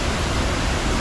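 A steady, loud rush of falling water from a waterfall at Las Pilas in San Francisco Morazán, Chalatenango, El Salvador, a constant broadband roar with no pauses over its short span.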